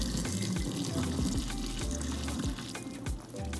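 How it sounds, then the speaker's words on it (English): Tap water runs steadily into a sink while saltfish is rinsed, a continuous splashing flow with repeated gurgling pulses as the stream hits the fish and basin, heard close up. "I'm gonna rinse it out with a little bit of clean water"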